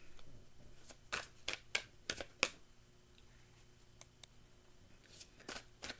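Tarot cards are shuffled in irregular clusters of quick papery slaps and riffles, close but quiet, with gaps between bursts and no talking.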